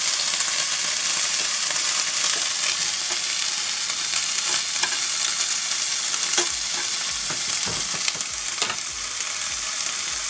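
Food sizzles in a pan on a Karinear plug-in ceramic hob, a loud, close, steady frying hiss with scattered crackles and pops, heard alone without speech.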